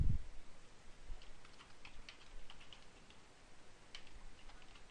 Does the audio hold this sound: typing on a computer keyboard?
yes